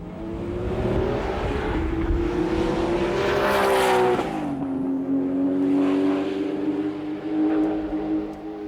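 A Porsche 935 race car engine revs hard after a fuel pump adjustment, a loud, close, steady roar that climbs in pitch and then eases back, with no voices over it.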